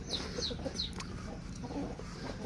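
Chickens clucking inside a coop, with a few soft, short clucks spread over a steady, low background murmur, heard from a moderate distance.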